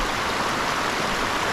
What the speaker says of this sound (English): after I cross this creek